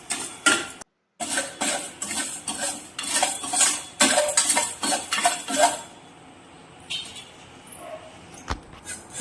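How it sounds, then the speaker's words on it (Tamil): Asafoetida and salt are dry-roasted in a pan for idli podi, with a spoon stirring and scraping in quick metallic clinks and rattles, then a quieter stretch near the end. "கொஞ்சமாக உப்பு எடுத்து வறுத்துக்குங்க."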